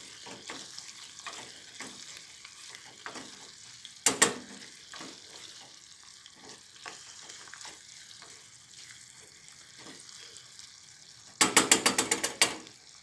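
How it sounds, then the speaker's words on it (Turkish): Chili flakes are roasted in a pan for a Turkish potato börek filling, a soft steady sizzle with scraping and stirring clatters, and two brief loud bursts of rattling against the pan. "Şöyle pul biberle de 1-2 dakika kavuralım."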